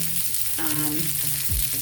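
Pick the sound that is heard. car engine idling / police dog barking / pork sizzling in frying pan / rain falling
pork sizzling in frying pan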